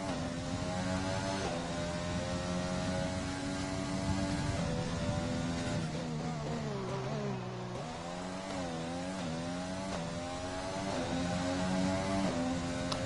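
A Formula 1 race car engine in a racing video game, held near full throttle on the Australian circuit, whining loud and continuous with rising and falling harmonic sweeps as it shifts through corners, with no talk over it.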